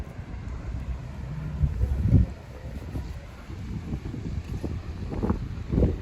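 Wind gusts at Yokosuka naval base buffet the microphone outdoors, making a steady, loud low rumble that swells and eases with the gusts and has no speech over it.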